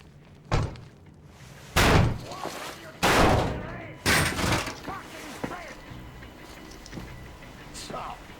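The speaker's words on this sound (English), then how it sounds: "The door's giving. Let's give it a shove, Artyom." A door being shoved open in the video game Metro Exodus: a series of loud, heavy thuds and bangs a second or so apart, fading into scraping, with voices around them.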